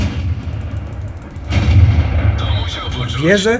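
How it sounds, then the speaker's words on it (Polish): A Churchill tank's cannon fires in the video game World of Tanks, one heavy booming shot with a long rumbling tail that rises and lingers, while someone speaks briefly over it. "Jeszcze jeden strzał Churchilla."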